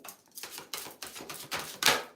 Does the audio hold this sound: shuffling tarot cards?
yes